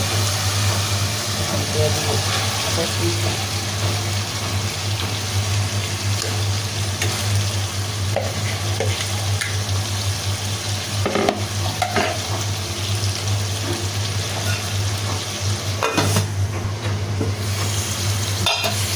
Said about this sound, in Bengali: সুন্দর করে মশলা কষানো হয়ে গেছে।